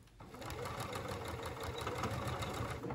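A sewing machine stitches a seam across a small fabric bag charm, its fast steady mechanical whirring rattle running close and continuous after a brief start.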